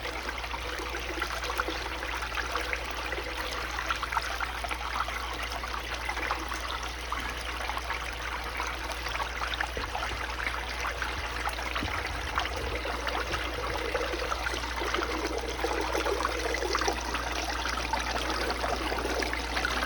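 Water pours steadily down a VDR sluice mat, a continuous close trickling and splashing rush that stays even throughout, with no speech.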